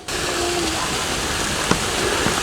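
A waterfall pours into a large pond at the Japanese Tea Garden in Brackenridge Park, San Antonio, making a continuous, even rushing splash heard from close by, with no talk over it.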